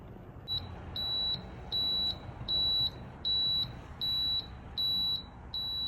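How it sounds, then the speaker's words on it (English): An Elite Gourmet hard-boiled egg cooker beeps to signal the eggs are done, a series of eight steady electronic tones in a regular on-off rhythm, close and clear over a soft background hiss. "All right, so that just beeped."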